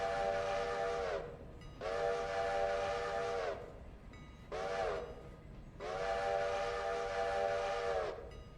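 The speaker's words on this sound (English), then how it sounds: "He's blowing for the crossing" A train whistle in the video game Railroader sounds for a crossing in four long blasts, two long, a short one, then a long one, loud and steady over a low rumbling background.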